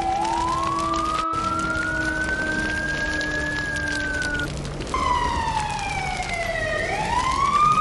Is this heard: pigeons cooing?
no